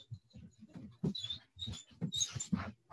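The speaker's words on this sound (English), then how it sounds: "had a neighbor's dog wander in" A neighbor's dog wandering indoors, a series of soft, close snuffling and pattering sounds with faint whimper-like squeaks, irregular and quiet.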